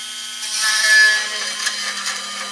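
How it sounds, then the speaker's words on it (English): A weld being laid in a workshop, a loud, steady crackling hiss that swells to a peak early and then holds at a rough, sputtering level, with no talking. "Put a weld in."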